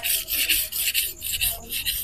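Victorinox knife blade sharpened on a coarse King 300 grit whetstone, steady rhythmic back-and-forth rasping strokes, close and continuous with no talk.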